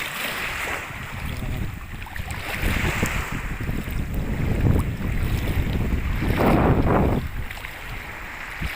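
Strong wind buffeting the microphone by the sea, gusting louder midway, with a faint rush of waves underneath.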